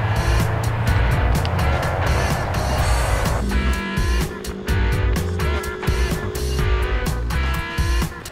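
A restored barn-find Ferrari race car makes its first run on a racetrack, its engine droning loudly and steadily as it drives past, with the pitch shifting partway through.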